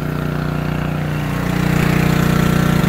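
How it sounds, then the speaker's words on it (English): A drain jetter machine runs steadily while a French drain is cleaned of sand and debris, giving a loud, close motor drone that swells a little louder halfway through and has no talking over it. "So if you let that jetter run as you pull it back, it pulls back all the debris."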